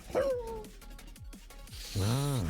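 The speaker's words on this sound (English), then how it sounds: "you hear this whimper" A creature hidden in shadows whimpers in a dramatized fantasy scene: thin, wavering, dog-like whines rise and fall over a low rumble, ending in a louder, quavering cry.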